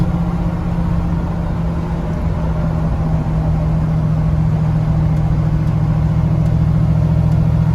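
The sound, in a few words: 1954 Ford F100 pickup truck driving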